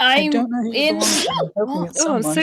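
A single sharp sneeze bursts out in the middle of a courtroom-style conversation, sitting among ongoing talk from several people just before and after it.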